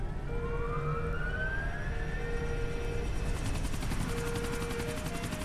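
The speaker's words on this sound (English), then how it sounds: "get in the helicopter" Steady, loud helicopter rotor drone in GTA IV: The Ballad of Gay Tony, with a rising engine whine and a rapid chopping pulse building toward the end, mixed with siren-like tones.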